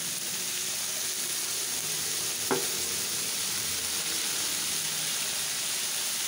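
Mee goreng sizzling steadily in a hot wok as sweet soy sauce is added, a constant loud frying hiss with one brief clink partway through.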